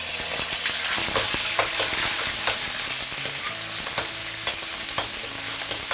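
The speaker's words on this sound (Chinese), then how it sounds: "它里面的鸡油我们给它煸一下。" Fresh whole chicken sizzles in hot oil in a wok over medium-low heat, a steady crackling fry with frequent sharp spatters and the scrape of stirring, close and alone without talk.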